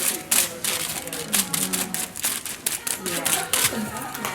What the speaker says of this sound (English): Add my foil.